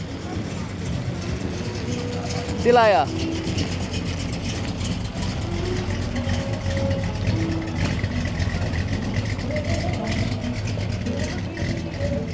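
A 1969 car rolls out of an evening summer cruise night car meet, a low engine rumble that rises briefly, with crowd chatter and a voice speaking over it.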